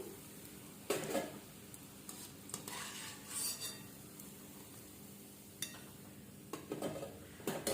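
Cabbage Manchurian balls fry in hot oil at home, giving a faint, soft sizzle broken by occasional stirring scrapes and light utensil clinks against the pan.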